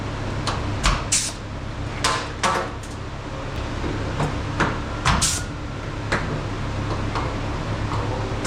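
A limousine door being opened, shut and handled in a workshop, giving a series of sharp metallic clicks and clunks spaced irregularly over a low steady hum, fairly close.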